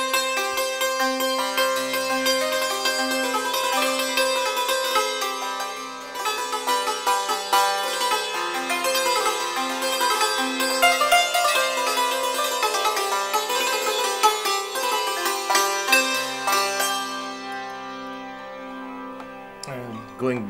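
A santur is played with its bridge positions changed, a dense run of bright hammered strings ringing and shimmering continuously, busy melodic figures over sustained resonance that thins toward the end, played alone without talking.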